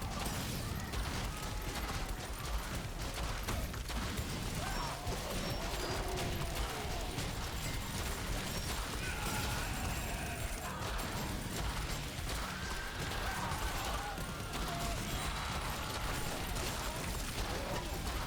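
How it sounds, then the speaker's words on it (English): Chemical explosions going off in the zombie survival game Yet Another Zombie Survivors, a dense, steady stream of crackling, mechanical bursts and clatter that keeps going at an even loudness the whole way through. "Those explosions are pretty cool."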